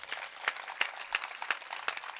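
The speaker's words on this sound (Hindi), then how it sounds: "एक बार अपने बेटे के सम्मान में आपकी तालियां उठनी चाहिए" An audience at a Hindi poetry recital claps in sparse, irregular beats, moderately quiet, with no talk over it.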